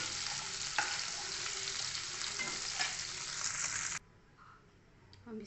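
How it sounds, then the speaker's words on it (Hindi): Paneer fries in hot oil for kadhai paneer, giving a loud, dense sizzle for about four seconds before it drops off abruptly to quiet room noise with a faint clink. "इसको गोल्डन ब्राउन करेंगे पनीर को"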